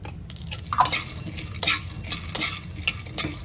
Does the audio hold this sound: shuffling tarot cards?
no